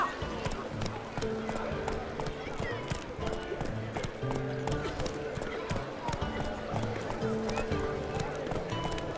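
Roach, Geralt's horse in The Witcher 3: Blood and Wine, gallops on with rapid rhythmic hoof clip-clops, steady and close, over game music tones and a voice speaking.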